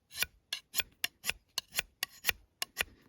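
Rhythmic rasping scrapes of a saw blade on a small ferro rod, about a dozen quick strokes in a steady back-and-forth pattern, close and fairly loud, with no talking.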